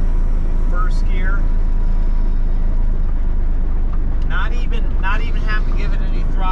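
A K100 BC 350 pulling away slowly in first gear without throttle: a steady low engine rumble runs throughout, with voices speaking over it.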